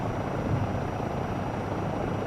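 A helicopter flies in Microsoft Flight Simulator 2024, its rotor and engine making a steady, even drone throughout.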